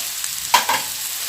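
Spices and asafoetida roasting in a pan for a moat bean dish, a steady soft sizzle of frying with two brief stirring scrapes, close and even, no voices.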